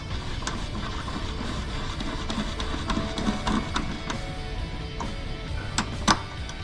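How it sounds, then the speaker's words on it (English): A case trimmer cutting down a brass rifle cartridge case gives a steady close mechanical whir with scattered small clicks and ticks throughout, and no voices. "So we will put this back inside our case trimmer, and we will take some more off."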